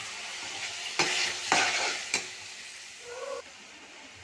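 Chopped tomatoes and onions sizzle in a pan for a crab masala, with a few sharp scraping stirs of a spoon breaking through the steady frying hiss; no one speaks.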